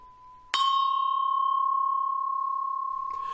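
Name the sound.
tubular chime ringing with tremolo from squashing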